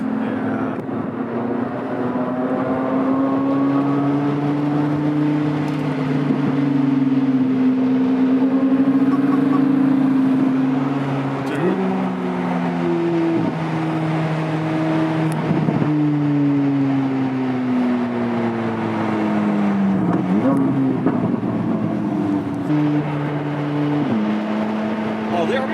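Engine of a Chevrolet Corvette C8 Z06 heard from inside during a ride, a loud steady drone that climbs through the gears with brief dips at shifts, no talking over it.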